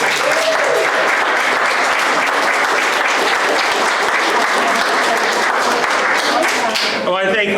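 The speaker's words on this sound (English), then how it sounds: "Let's give them a round of applause." Loud, sustained applause for volunteers at a shelter's pancake breakfast workshop, a thick roar of many hands filling the room, with a voice rising over it near the end.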